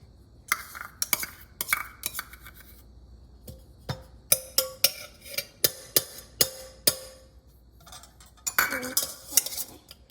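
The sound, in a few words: butter being added to a bowl with utensils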